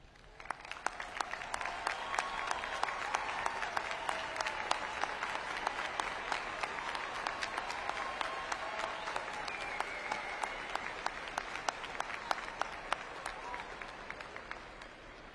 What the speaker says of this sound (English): Please stand at this time, parents, so that we may give you a round of applause.